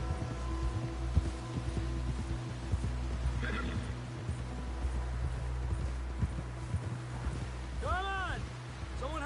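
Horse hooves clip-clop in a steady rhythm on open ground in the video game Red Dead Redemption 2, under a low droning background, with a horse neighing loudly near the end and voices talking.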